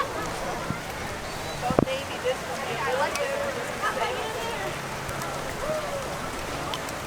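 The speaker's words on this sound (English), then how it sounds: "the rain starts coming down here in Epcot" Rain comes down steadily at Epcot during the opening day of the Food and Wine Festival, a soft continuous patter with a sharp knock partway through, all under nearby talk.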